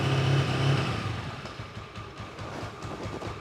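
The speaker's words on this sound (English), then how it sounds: "So you can hear that it's just holding a little bit of throttle" A cold ST250 motorcycle engine idles with a slight throttle held while warming up, a close, steady low rumbling putter with slight wavering, heard alone.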